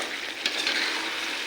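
Dried chili, cumin and spices frying in hot oil, a bright, steady sizzle that flares briefly near the start, close and fairly loud.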